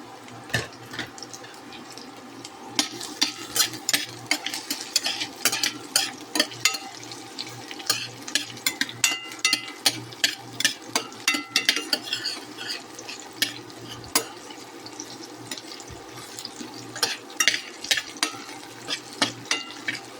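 Garlic and onion frying together in a pan for pork caldereta: a steady sizzle broken by frequent sharp scraping and clinking stirs, close and busy, with no talk.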